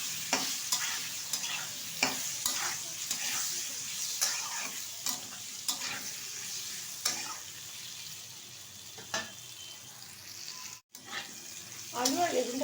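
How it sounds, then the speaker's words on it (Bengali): Diced potato and eggplant stir-fried in a pan, with a steady sizzle under repeated scraping strokes of a spatula at a brisk, uneven rhythm, close up and moderately loud. "ভালোভাবে একটু নেড়ে চেড়ে ভেজে নেব।"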